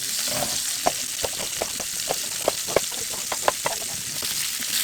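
Mushrooms and onions fry in olive oil with a constant soft sizzle, punctuated by regular taps and scrapes of a utensil stirring the pan, heard close and moderately quiet.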